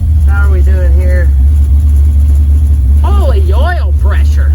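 A 1979 Camaro engine idles just after its first start, a loud, deep, steady rumble that holds throughout while people talk briefly over it.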